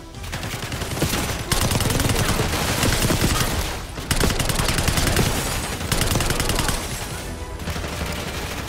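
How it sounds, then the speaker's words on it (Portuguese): Sustained automatic gunfire in a shootout in Call of Duty: Black Ops 6, loud and dense, with rapid overlapping bursts and a few brief pauses between volleys. "Eles estão atirando."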